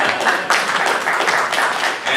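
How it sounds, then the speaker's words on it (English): An audience at a Big WOW! 2014 convention panel on cosplay tech claps, a brief burst of dense, close applause that swells and stays lively throughout. "Applause, applause."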